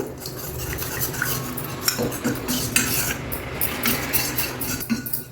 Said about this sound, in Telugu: దీన్ని బాగా కలిపేసేయండి